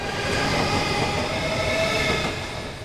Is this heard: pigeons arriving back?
no